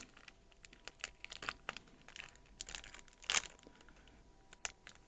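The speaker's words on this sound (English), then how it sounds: "Now let's go ahead and open the paper." A pack of photo paper for a Liene Pearl N200 Pro portable photo printer is torn open, with soft crinkling and tearing plastic in irregular bursts and one sharper rip near the end, close and fairly quiet.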